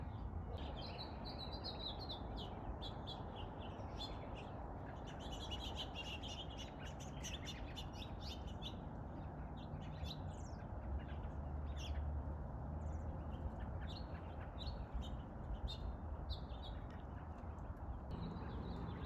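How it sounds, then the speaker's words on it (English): Many small birds chirp and tweet outdoors on a January day by a puddle of melting ice, quick scattered calls over a steady low background hum. "There's a ton of birdies out here."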